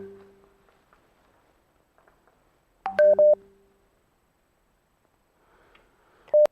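Telephone dialing tones while a caller is connected to a Ramadan radio quiz show: a short cluster of bright beeping tones after near silence, then another single tone at the end, with no voices.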